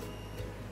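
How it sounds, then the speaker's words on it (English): A 3D printer runs in the background of a workshop, a faint steady motor whir with soft ticking and a low hum, quiet and continuous with no talking. "the 3D printer is actually running while I'm filming this"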